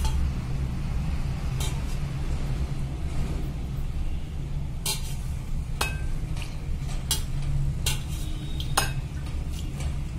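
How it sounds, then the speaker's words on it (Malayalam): Milk poured into crumbled bread and mixed by hand for bread gulab jamun, with soft stirring and scattered sharp spoon-on-bowl clinks over a steady low background hum, fairly faint and without talking. "ഇനി ഇതിലേക്ക് നമുക്ക് കുറച്ച് പാൽ ഒഴിച്ച് കൊടുക്കാം"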